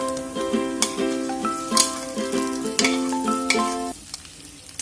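Green chili, ginger and mashed boiled potatoes sizzling in an iron wok, with a spoon repeatedly scraping and stirring in an uneven rhythm, close and clear with no talking.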